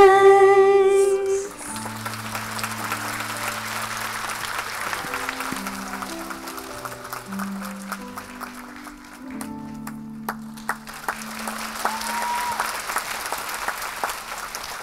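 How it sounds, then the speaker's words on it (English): An audience at a Buddhist Dhamma event applauds after a performance, a sustained, moderate patter of clapping that runs under soft instrumental music throughout. "Round of applause, ladies and gentlemen."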